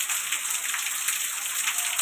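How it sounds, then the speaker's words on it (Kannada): Steady rain pours down outside a house in a long dark spell, a dense even hiss of drops on surfaces, constant and fairly close with no other sounds. "ಮಳೆ ಶಬ್ದ ಕೇಳ್ತಿರ್ಬೋದು."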